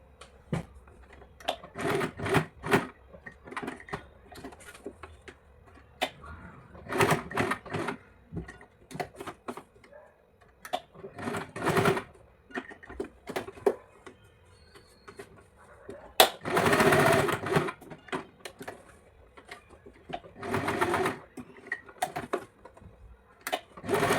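A home sewing machine stitches a plain blouse in repeated short bursts, each run of whirring stitches broken by pauses, close by, with one longer louder run midway.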